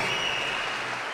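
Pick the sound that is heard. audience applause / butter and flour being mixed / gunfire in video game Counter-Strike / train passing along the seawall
audience applause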